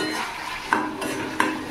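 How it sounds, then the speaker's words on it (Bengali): A spatula works a pan of fish curry spices with coriander powder over a low flame, a steady soft sizzle broken by two sharp metallic clinks, close and brief with no voices. "এটা আস্তে আস্তে কষাতে থাকি"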